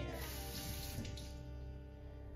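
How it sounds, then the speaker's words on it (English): Tap water runs steadily into small sauce dishes, a continuous hissing splash that stays fairly constant and close, with no voices over it. "I'm gonna use these little sauce dishes and fill them with water"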